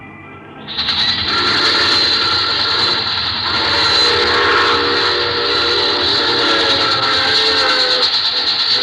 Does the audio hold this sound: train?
yes